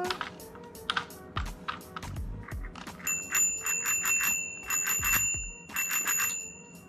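Handmade baby busy board toy with buttons and a bell, producing repeated bright bell rings and clicky button presses at close range, with faint background voices.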